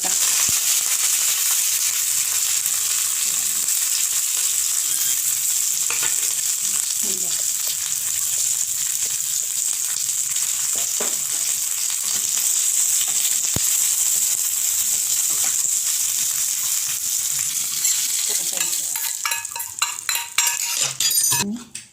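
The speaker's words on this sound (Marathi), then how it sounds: "आता याला आपल्याला छान तडका द्यायचा आहे थोडं तेल टाकायचं आहे थोडी जिरे थोडी मोरी कढीपत्ता" Hot oil tempering with cumin seeds and curry leaves in a pan, giving a loud, continuous crackling sizzle throughout, with occasional clinks of a metal utensil toward the end.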